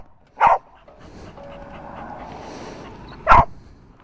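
A dog pants steadily and softly in a sidecar attached to a BMW K100LT motorcycle. Two short, loud yips or barks break in at the start and near the end.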